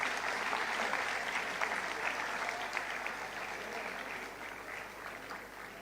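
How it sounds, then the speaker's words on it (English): An audience at an event in Mumbai gives a sustained round of applause for the Dabbawalas, steady dense clapping that slowly tapers over several seconds with no speech on top. "Can we have a round of applause to the Dabbawalas,"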